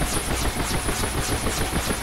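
A UH-1 Huey helicopter in the DCS flight simulator gives a continuous rhythmic rotor chop over a dense turbine roar, close and steady throughout, with no talking.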